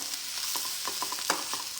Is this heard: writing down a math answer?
no